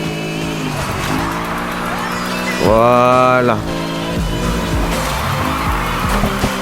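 A car drifts in Need for Speed Heat with its engine droning steadily, and a loud, rising tire squeal cuts in midway before the engine hum carries on. Someone speaks briefly over it.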